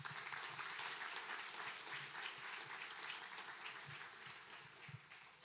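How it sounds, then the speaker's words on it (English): An audience at a spring white coat ceremony applauds the faculty with steady, dense clapping that holds at an even level throughout and fades only slightly near the end, with no talk over it. "we should give a round of applause to the faculty here at this"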